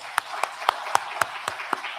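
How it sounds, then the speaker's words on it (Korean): Sharp claps in a steady, even rhythm, about four per second, fairly loud, like a church congregation clapping in unison during a Sunday morning service. "우리 한번 박수 할까요? 박수하겠습니다"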